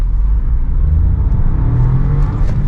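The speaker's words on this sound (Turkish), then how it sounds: "Şimdi şöyle yolumuz müsait. Dip gaz yapıyorum." A 2023 Dacia Jogger seven-seater accelerates at full throttle on an open road, its engine droning loud and steady with a rising low-frequency tone throughout, heard from inside the cabin with no talking.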